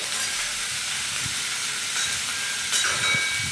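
Vegetables frying with a pinch of salt in a pan for a simple home dinner, giving a steady, broad sizzle that runs without break throughout, moderately close, with no voices over it.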